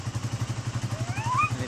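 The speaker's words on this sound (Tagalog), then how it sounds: "tapos pinaantar ko ang aking motor" A tricycle's motorcycle engine runs to power a generator, giving a close, rhythmic putter of regular pulses. A voice cuts in briefly near the end.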